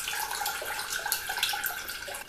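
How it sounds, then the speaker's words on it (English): Apple juice draining from a pressed cider bag, a steady close trickle and splash of liquid running continuously with small spattering accents, no talking. "Now that the juice is draining"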